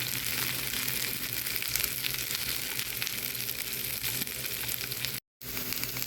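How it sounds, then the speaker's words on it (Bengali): Okra frying in olive oil for lentil dal, giving a loud, dense, continuous crackling sizzle with a brief cut to silence near the end. No voices are heard. "এখন ঢ্যাঁড়সটা আমি একদম অলিভ অয়েল তেলের মধ্যে ভেজে নিব ভালো করে"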